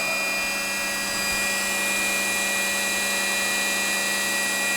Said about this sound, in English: Spindle sounds really nice.